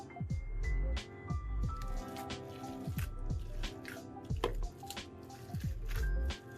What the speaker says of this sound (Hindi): अब हम इन तमाम अज्जा को बहुत अच्छे से मिक्स करेंगे।